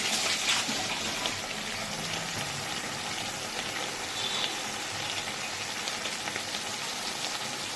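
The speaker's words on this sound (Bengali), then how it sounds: "এবার আমি এর মধ্যে জল দিয়ে দেবো।" Water pours into spiced fish in a cooking pan as a steady, soft splashing hiss that runs unbroken with no voices.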